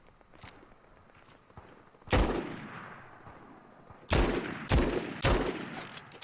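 Gunfire from a weapon in a video game, a few scattered faint pops followed by several loud, sharp close shots with decaying tails, irregularly spaced over a quiet background with no speech.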